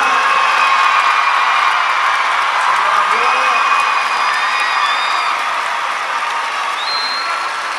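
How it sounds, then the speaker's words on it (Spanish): A large crowd at a concert in Aguascalientes applauds steadily with cheering and whoops, loud and sustained from start to finish. "Un aplauso para ella."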